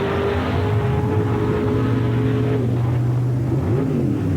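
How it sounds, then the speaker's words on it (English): A supercharged 468 cubic inch funny car on paddle tires revs hard at a mud race, its loud engine holding a steady roar with rising and falling pitch sweeps, close and dominant with no talk. "He's revving it up."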